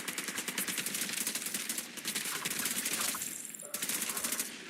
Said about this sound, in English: Now he's got the machine gun.